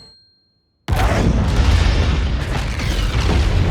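A loud, sudden blast from the film Dune: Part Two erupts after near silence and rolls on as a sustained, booming roar with rumbling debris to the end.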